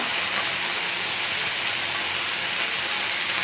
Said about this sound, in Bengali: এটা দিয়ে 2-3 মিনিটের মতন একটু ভেজে নিই সজনে ফুলটা।